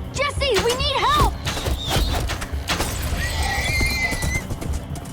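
Horses whinny loudly and shrilly several times in the Minecraft Story Mode video game, amid hoof clatter and a busy, chaotic scene, while voices talk over them.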